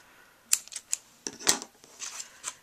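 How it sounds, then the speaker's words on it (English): Scissors trim the edge of a paper craft piece for a Halloween sucker holder, a quick run of sharp close snips, several crisp cuts in an uneven rhythm, quiet and alone. "let me trim this edge"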